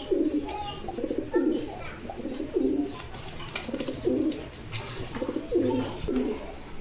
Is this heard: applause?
no